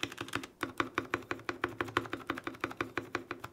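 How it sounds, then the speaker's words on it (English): Typing on an Epomaker TH80 or TH66 mechanical keyboard after its switches were tuned and relubed, a quick, even run of crisp, muted keystrokes recorded close up with no talking. "here's what they sound like before and after a tune and relube."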